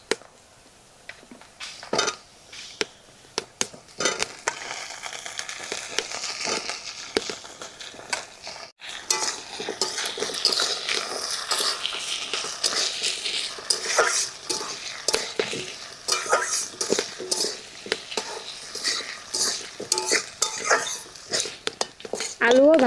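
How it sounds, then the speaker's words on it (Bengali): Potatoes fry in a pan with onion and green chili for a masoor dal, a spatula repeatedly scraping and stirring through a continuous close sizzle, with clatters of utensil on metal and some faint talk. "আলুও ভাজা হয়ে গেছে হালকা,"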